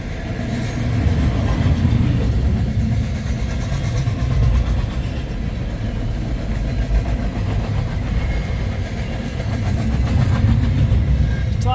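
A CN freight train rolls past south of Ladysmith, Wisconsin, a continuous broad rumble and rattle of railcars holding steady throughout, loud and close.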